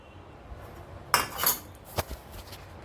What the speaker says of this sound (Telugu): ఆపకుండా పాలు తిప్పుతూనే ఉండాలి, లేకపోతే ఉండలు కట్టేస్తుంది అన్నమాట